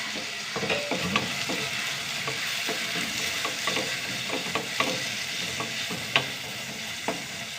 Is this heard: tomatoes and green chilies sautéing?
yes